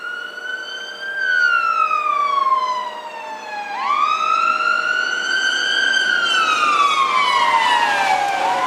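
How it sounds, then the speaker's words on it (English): An ambulance siren wails past outdoors on Grindstone Mountain, a loud rising and falling tone that dips in pitch as it goes by, then swells again, with traffic noise underneath. "Here comes the ambulance."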